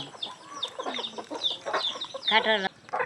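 Guinea fowl and Kadaknath chickens cluck and call close by in a busy, overlapping chorus of short squawks and chattering notes, ending in a louder, drawn-out cackle.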